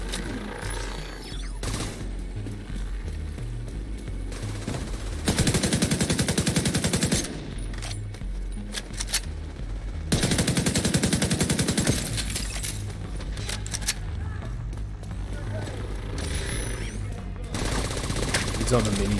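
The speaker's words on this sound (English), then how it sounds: "He's on the minigun. I need to get that guy off the minigun." Enemy minigun fire in The Division 2 during a Black Tusk invaded Potomac Event Center mission, with bursts of rapid, dense automatic fire swelling loud in stretches over a constant clatter of gunfire and game noise.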